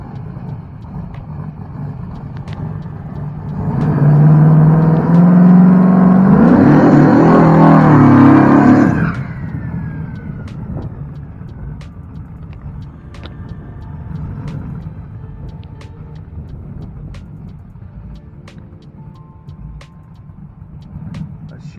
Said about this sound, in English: Now this thing coming up here is like a funny car.